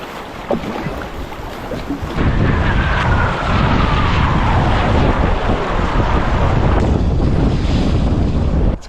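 Strong headwind roars across the microphone, loud and steady after a quieter start, while a small boat moves downstream through icy slush on a river, with water rushing underneath.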